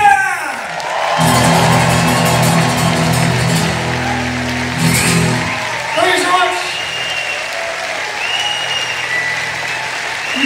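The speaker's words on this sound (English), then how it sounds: "Would you please put your hands together in a big round of applause for" A concert crowd in Berlin applauds and cheers: loud, sustained clapping with whoops over the band's ringing music, easing into a thinner round of applause.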